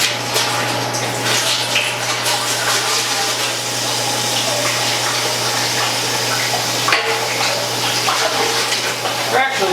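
Hot water gushes steadily while a brewing unitank's coil is rinsed during cleaning, a loud continuous rushing flow with a low pump-like hum beneath it.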